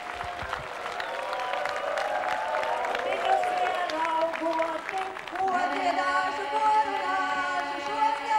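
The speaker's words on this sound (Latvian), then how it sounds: "Sveicam skanīgiem aplausiem!" Applause from a Līgo midsummer concert audience in Jēkabpils fills the space, a dense crowd of clapping that carries on as women's folk singing rises over it.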